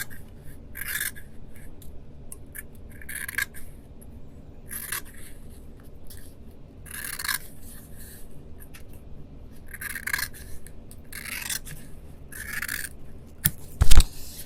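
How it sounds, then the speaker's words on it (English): Scissors trim Oratex fabric covering overages on a Tripacer aircraft part, producing repeated short snipping and rasping strokes at a steady, unhurried pace with a sharp knock near the end. "that's when I just trim them as close as I can"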